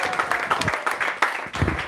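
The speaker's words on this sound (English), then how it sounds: "So let's give a big round of applause one more time to Maharaj." An audience at an ISKCON Kartik class claps for a visiting swami, a brief round of fairly loud, uneven hand claps with a slight fade near the end.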